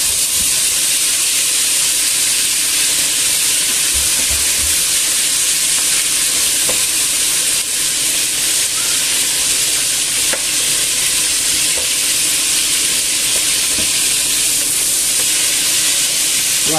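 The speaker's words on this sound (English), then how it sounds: "we'll just continue in frying it" Food fries in a pan with a loud, continuous sizzle that holds steady throughout, a dense crackling hiss close up, with a few faint clicks underneath.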